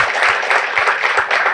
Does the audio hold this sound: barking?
no